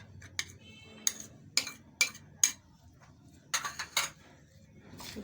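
A spoon clinks against a bowl while chopped tomatoes, onions and cucumbers are stirred for a chaat and pakora dish, with sharp scattered taps and scrapes spread irregularly over quiet background.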